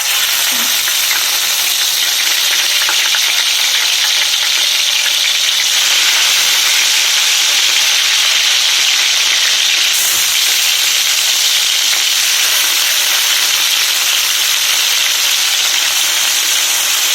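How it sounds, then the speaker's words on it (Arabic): Meat sears and browns in a hot pan for an Eid meal, a loud, dense, unbroken sizzle and hiss that stays close and steady throughout, with occasional stirring and no talk. "لا، لازم ان انا احمرها"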